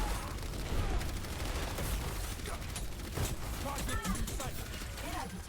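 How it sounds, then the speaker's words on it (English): Sustained gunfire in the Overwatch video game, dense overlapping shots and impacts forming a constant loud barrage throughout, with a voice speaking over it. "They're shooting me."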